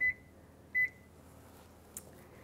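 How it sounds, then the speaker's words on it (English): Kitchen timer being set for 20 minutes: two short, clear electronic beeps about 0.75 seconds apart, then a faint click, in a quiet kitchen with no talking. "We want to put our timer to 20 minutes."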